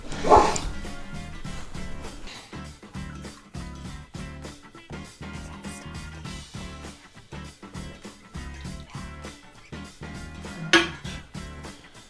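Rust-Oleum tub and tile refinishing paint parts being stirred in a container, a steady run of quick rhythmic clinking and scraping strokes, close and moderately loud, with a couple of sharper knocks.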